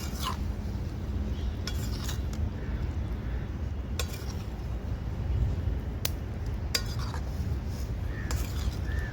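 A utensil scrapes and clinks against a pot while pieces of ash gourd are mixed for petha, with sporadic metallic taps over a low, steady background.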